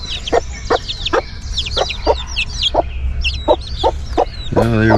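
Backyard chickens cluck and chatter in a busy, irregular flurry of short calls close by, with one louder squawk near the end and steady outdoor background noise beneath.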